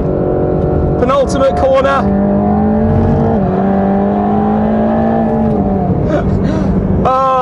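A Mercedes-AMG GT Black Series engine on a race track, a loud close-up drone rising and falling in pitch through corners as gears shift, with someone talking over it briefly.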